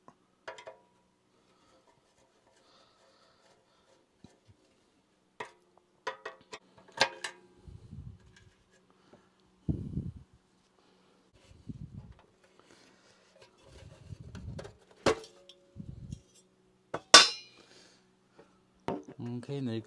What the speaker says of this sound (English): Now there are 4 screws in here to remove.